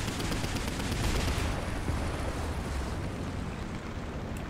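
Sustained roaring gunfire and rumbling engine noise in War Thunder, dense and loud throughout, with an M22 light tank firing its gun amid a heavy, continuous wash of battle sound.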